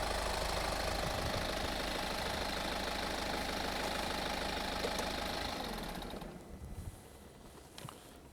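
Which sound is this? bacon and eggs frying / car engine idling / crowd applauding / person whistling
car engine idling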